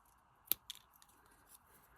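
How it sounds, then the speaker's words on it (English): Scissors snip a thin sliver off a piece of stamped craft card, one crisp close cut followed by a softer second snip in a quiet room. "So I'm just going to grab my scissors again and just take a sliver off there to get rid of that ink shadow."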